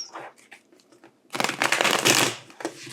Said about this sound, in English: Shuffle some cards.